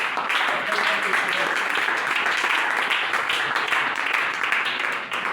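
A church congregation applauding at a worship service, with steady dense clapping running through the whole stretch and voices mixed in beneath it.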